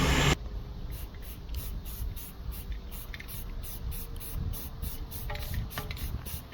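A rattle can of spray paint hisses in rapid short bursts while coating a 70-year-old transmission for a 1955 Dodge, close and steady with a faint rhythmic ticking between sprays.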